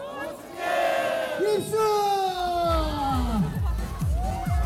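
At the winter opening of the Pyeongchang trout festival, a large crowd dressed in short sleeves and shorts shouts loudly in unison, then keeps whooping and yelling as people plunge into a big round outdoor pool.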